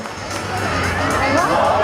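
A crowd of spectators cheers and whoops at a Queen of the Hill competition event, a dense, rising wall of noise lasting a couple of seconds, with voices mixed into the babble.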